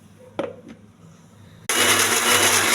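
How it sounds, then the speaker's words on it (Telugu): After a couple of small knocks, a mixer grinder starts abruptly and runs loudly and steadily, blending coconut chutney with salt, tamarind, green and dried chillies and a little water. "కొద్దిగా వాటర్ వేసుకుని మిక్సీ వేసుకోవాలండి."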